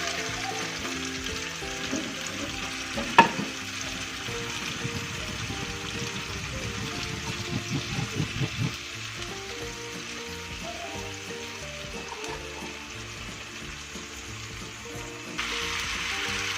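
Chayote leaves stir-frying in a pan, a low, steady sizzle with a soft hiss, a sharp clatter early on and a stretch of bubbling crackle in the middle; no voices.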